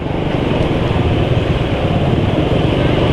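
A motorcycle engine runs steadily after an oil change with ester and PAO synthetic oil. It makes a loud, even, close drone with no gaps.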